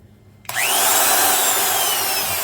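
A Milwaukee 1/2 inch Super Hole Shooter drill, just serviced after a teardown, switches on abruptly and runs at a loud, steady high whine that rises briefly as it spins up.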